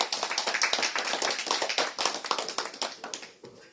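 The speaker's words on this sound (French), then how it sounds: "Et nous voulons applaudir pour les œuvres puissantes de Dieu." A church congregation claps together during a Sunday worship service, loud, close and dense, with a quick rhythmic pulse that carries on for several seconds and then tapers off, with no speech.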